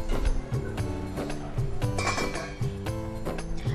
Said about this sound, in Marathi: आता आपण झाकण ठेवूया